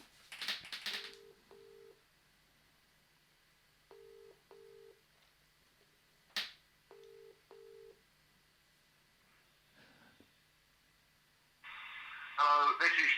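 Telephone tones on an outgoing call: a burst of noise, then short paired ringback-style beeps repeating at steady intervals with clicks between them, ending in a louder electronic tone. No one speaks.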